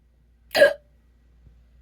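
A single short hiccup bursts out loudly and alone, with near silence before and after.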